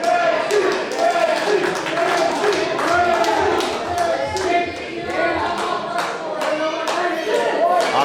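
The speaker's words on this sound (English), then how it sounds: "Crowd rallying behind KC Navarro." A wrestling crowd at a live championship match claps in a steady rhythm, dense and loud, with cheering voices and talk mixed in throughout.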